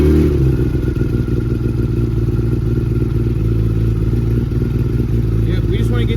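A Kawasaki ZX10 motorcycle engine idles to warm its oil, a loud, steady, close mechanical rumble with a rapid throbbing pulse that holds constant throughout.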